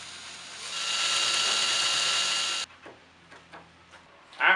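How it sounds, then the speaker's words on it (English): A power drill whines steadily for a couple of seconds drilling holes in a surfboard, then stops, followed by a few soft knocks and a brief rough scrape. "After you drill your holes on either side"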